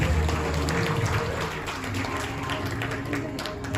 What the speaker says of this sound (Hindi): तो जोरदार तालियां हो जाए निखिल अग्रवाल जी के लिए।